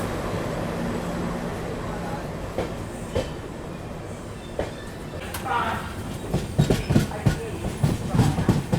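Passing train hauled by a WDM3D diesel locomotive pulling a single Antyodaya general coach, heard as a steady rolling rumble with rhythmic wheel clatter growing louder and more percussive toward the end.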